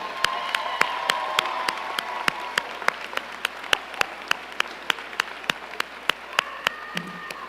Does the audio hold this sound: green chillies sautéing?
no